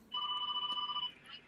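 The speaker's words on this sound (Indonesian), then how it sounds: "Ya itu kan bunyi telepon hotel." A hotel room telephone rings with a steady electronic trill, clear and fairly close, lasting about a second before fading, with no talk over it.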